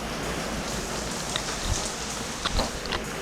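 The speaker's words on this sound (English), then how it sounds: "it's obviously raining outside" Steady rain pours outside, a dense patter with a few louder drips landing close by, and no voices.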